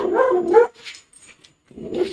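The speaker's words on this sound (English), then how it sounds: "are they barking at?" A dog barks nearby, then goes quiet for a moment before barking again, with a slight whimpering quality.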